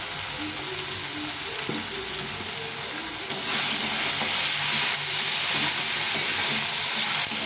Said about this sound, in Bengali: আর এই হলুদ দিয়ে এটাকে ভালো করে ভেজে নেব